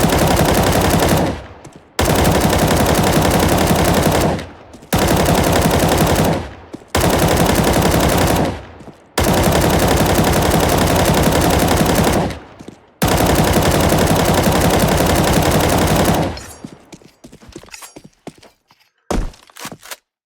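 Automatic weapons spray fire in Counter-Strike 2, six long, loud bursts of rapid shots separated by short pauses, then a few scattered single shots and quieter clicks trailing off.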